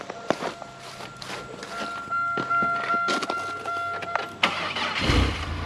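A car engine cranks and catches near the end after a Hompow jump starter is switched into jump mode, preceded by clicks, handling noises and a steady electronic tone.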